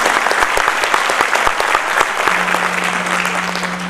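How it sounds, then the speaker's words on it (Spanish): A crowd applauds the Ballet Folclórico Independiente de México at a festival in Samacá, dense loud clapping with sharp individual claps standing out, continuous throughout, with a steady hum entering partway. "Démosle un fuerte aplauso entonces al Ballet Folclórico Independiente de México"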